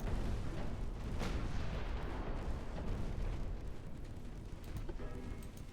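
Warship secondary and main guns firing in the naval battle game Ultimate Admiral Dreadnoughts, a dense, continuous barrage of booming shots rolling under one another, fairly faint overall and with no talk.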